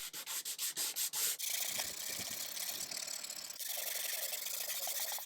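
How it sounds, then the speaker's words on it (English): Wood is sanded close up, first with quick rhythmic back-and-forth strokes, then a continuous harsh rasping scrape. "And then I did some sanding by hand because I really like sanding."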